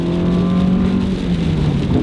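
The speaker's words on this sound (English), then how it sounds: "Now with the bigger engine and a 6-speed transmission, it takes off much better." A Toyota with a bigger engine and 6-speed transmission accelerates hard on a wet road, its engine note rising steadily and loud, close up with a continuous droning hum throughout.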